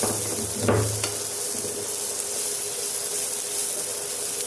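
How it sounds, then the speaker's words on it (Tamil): Garlic sizzles and crackles steadily in a hot pan of oil for a garlic rice and tapioca curry, with a brief stir or clink near the start, close and continuous with no talk. "பூண்டு போடுறேன்"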